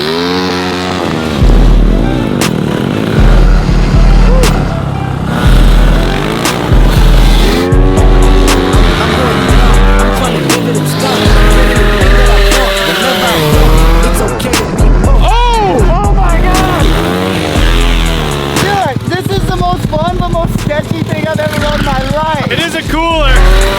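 450 racing lawn mower and 450 shifter kart engines revving hard, rising and falling whines with gear changes swinging up and down, loud and close throughout, with people talking and shouting over them.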